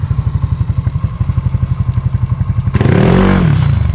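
A motorcycle braking hard with the front brakes: the engine pulses in a steady loud rhythm, then a sudden harsh burst of tire scrub and skid noise as the brakes bite.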